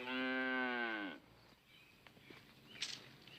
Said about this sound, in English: Milk the cow.